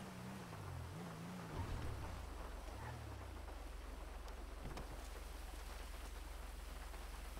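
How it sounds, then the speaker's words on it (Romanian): Heavy rain falls steadily in a video game as a constant wash of noise, with a low engine-like hum and tonal game sounds early on and faint rumbles like thunder. "Mamă, ce plouă."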